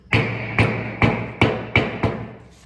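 Six sharp metallic hammer blows strike at an even pace, each ringing briefly before the next, driving a rear wheel bearing into a Ford Fiesta.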